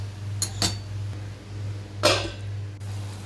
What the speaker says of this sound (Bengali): এবার একটু জল দিয়ে একটু নেড়ে চেড়ে আমি ঢাকা দিয়ে দেবো